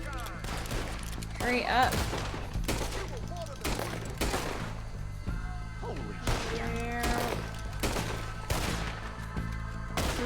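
Rapid bursts of video game gunfire crack and thump in quick volleys throughout, mixed with in-game effects, while a person talks over the shooting.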